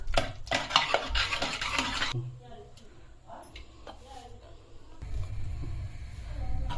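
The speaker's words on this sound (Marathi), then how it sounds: "डाळीमध्येच जराशी हळद टाकून हलवून घ्यायची घोटून व्यवस्थित." A spoon stirs cooked dal with turmeric in a pot for Marathi dal-bati sambar, with scraping and clinking strokes that come in bursts, quieter in the middle, plus low background noise.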